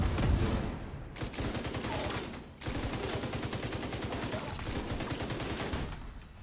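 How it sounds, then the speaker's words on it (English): Explosions from grenades in the video game The Division 2 give sustained loud blasts and crackling bursts, with dense rapid pops throughout and two brief dips. "we want to try and use grenades this time"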